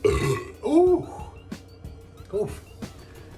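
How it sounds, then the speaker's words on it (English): A single long, throaty burp up close after drinking Mountain Dew Fruit Quake, followed by a shorter second burp after a brief pause. "That's what that burp says."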